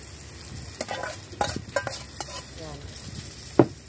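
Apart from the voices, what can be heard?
sautéing mung beans with shrimp in a pan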